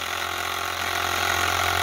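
An Enjomor Stirling hot air engine runs steadily, a smooth continuous mechanical hum with a faint rapid ticking rhythm, close and alone without speech.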